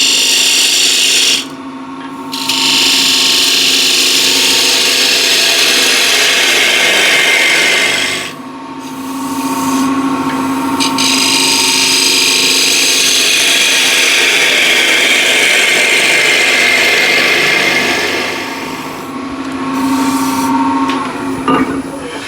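A skew chisel cuts a mahogany plate spinning on a lathe, giving a loud, continuous, close scraping hiss that breaks off briefly twice as the tool lifts away, then carries on steadily.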